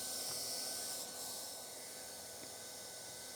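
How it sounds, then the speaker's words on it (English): Hot-air heat gun welding a TPO roof membrane seam to close a void, a steady loud airy hiss and blower roar with a slight shift in pitch partway through and no talking. "put our heat gun in, lightly weld the void back down"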